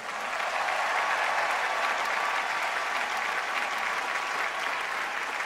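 Sustained audience applause at an Amway diamond-level award ceremony in Thailand, an even, unbroken roar of many hands clapping with no talk over it.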